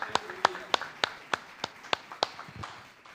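Rhythmic hand claps at a church service, about nine evenly spaced sharp claps, close and clear, with faint voices in the background.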